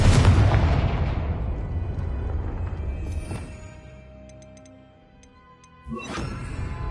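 A Confringo fire spell explodes in the Hogwarts Legacy video game, a loud booming blast at the start that rumbles and decays over several seconds, followed by a second sharp burst near the end.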